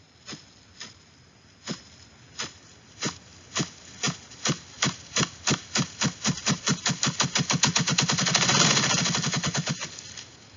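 A woodland bird beats its wings to produce drumming: deep, hollow thumps begin slow and widely spaced, then speed up steadily into a rapid whirring roll before fading out, heard alone and fairly close.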